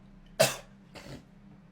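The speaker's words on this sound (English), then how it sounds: "Bro coughed like an iPad kid" A single sharp cough up close, followed a moment later by a softer, shorter cough-like sound.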